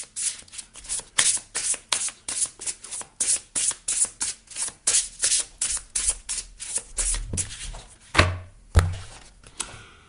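Tarot cards shuffled by hand in quick, even bursts of riffling and slapping, loud and close, with no voice over them.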